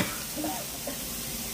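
Peppers, onions and garlic frying in sesame oil in a pan for a stir-fry, a soft, steady sizzle with faint stirring, quiet and close.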